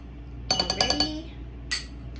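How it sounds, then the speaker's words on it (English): A mini whisk rattles quickly against a bowl while mixing a sauce of apple cider vinegar and ketchup, giving a short burst of about six bright clinks, followed a moment later by one softer clink. "I have the mini whisk that I'm using to just mix this sauce up"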